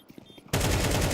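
A MAC-10 opens up in a Counter-Strike esports match, a sudden loud burst of rapid automatic fire that starts abruptly after a quiet moment and keeps going.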